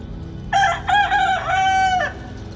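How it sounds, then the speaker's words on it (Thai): A rooster crows once, a loud, clear cock-a-doodle-doo of about one and a half seconds in several rising and sustained segments, close by over a low background hum, set within a Lao-language dramatized Bible story. "ไก่ตัวนั่นขัน"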